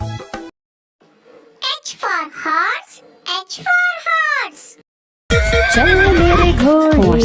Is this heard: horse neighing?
yes